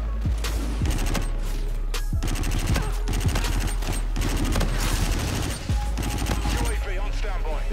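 Rapid, close bursts of automatic gunfire from Call of Duty: Infinite Warfare, loud volleys rattling across the whole stretch with short gaps between them, under occasional talk.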